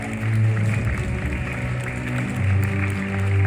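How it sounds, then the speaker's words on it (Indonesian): An audience applauds at the Fortune Indonesia Summit 2022 business event, a dense steady wash of clapping with low, tonal crowd noise underneath throughout. "Ya, kita berikan aplaus yang sangat meriah."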